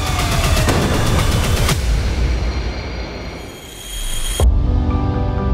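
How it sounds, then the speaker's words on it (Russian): Gunfire in a trailer for the 2024 film Мужское слово, dense booming shots and blasts that are loud and close, fading briefly before one last heavy hit. "Стрельба по команде."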